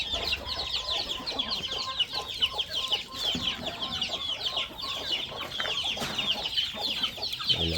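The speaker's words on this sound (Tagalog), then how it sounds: "Ang daming manok ni Pogi" A flock of chickens on a rural homestead plot clucks steadily and close by, with busy overlapping calls running throughout and no one talking.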